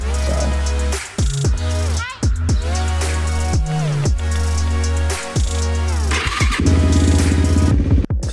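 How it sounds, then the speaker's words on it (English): A 2007 carbureted Yamaha YFZ450 quad runs with a loud, steady idle and repeated revs rising and falling, its engine throwing extra clattering bottom-end noise, close up with no talk. "we're gonna find out why this YFZ is making a ton of extra bottom end noise"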